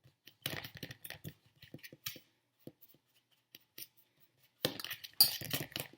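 A fork smashes sugar chunks in a bowl with bursts of sharp clinks and scrapes, first in short rapid clusters, then a quiet pause, then a dense, louder flurry of scraping near the end.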